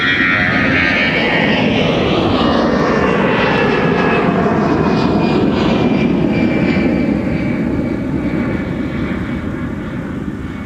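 An airliner taking off from runway 30 left at Minneapolis–St. Paul airport gives a loud, continuous jet roar with shifting whining engine tones that swell and slowly fade as it climbs away, with no talk over it.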